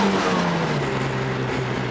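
A turbocharged manual car accelerates at full throttle from inside the cabin. The engine note is moderately loud and rises steadily in pitch over two seconds, with no talk.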